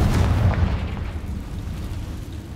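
A Confringo blasting spell detonates in Hogwarts Legacy, a loud booming burst with a rumbling low-end tail that fades over a couple of seconds, heard alone.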